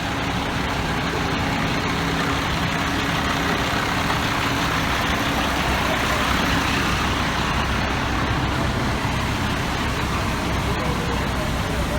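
FDNY fire engines idling at a carbon monoxide incident scene in Tribeca, a steady broadband diesel rumble with no breaks, loud and constant throughout, with voices faintly in the mix.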